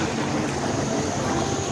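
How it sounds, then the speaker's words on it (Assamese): Water churned into waves by a passing ferry boat on a flooded river, a dense continuous rushing wash with wind buffeting, loud and close with no voices. "বিপৰীতমুখী নাওখনে পানীৰ চাপটো পেলাই কিমান এটা ঢৌৰ সৃষ্টি কৰিছে"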